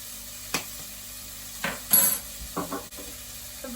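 Onions with oregano fry gently in a pan, a low background sizzle broken by a few scraping stirs of a utensil against the pan at irregular moments.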